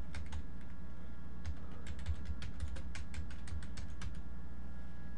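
Computer keys tapped in a steady run of quick, close clicks while layers are renamed in Rhino 3D modeling software, with a low hum underneath and no talking.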